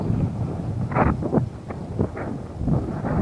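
Wind buffeting a microphone on a beach during surf fishing, a steady low rumble with irregular gusty bursts throughout.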